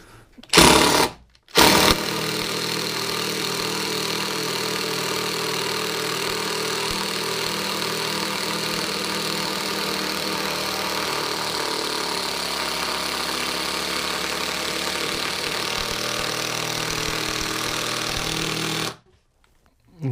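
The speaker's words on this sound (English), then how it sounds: "Now you need a good impact to put these into a hardwood." Cordless impact driver sinking 10 gauge 4-inch screws into hardwood, a loud continuous rattling hammer-buzz that runs steadily for about seventeen seconds after two short opening bursts, then stops.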